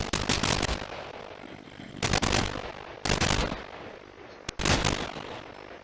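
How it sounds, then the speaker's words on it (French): A heavy machine gun in the NationsGlory video game fires in rapid bursts at a zombie, with four or so dense rattling volleys separated by short pauses, loud and close with no voices. "Encore une autre mitrailleuse lourde. Je vais tester sur le zombie."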